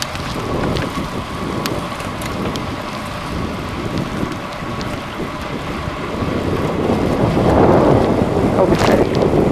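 A river rushes and babbles beside a multi-use trail in Franconia State Park, a steady broadband wash that grows louder toward the end, with wind buffeting the microphone.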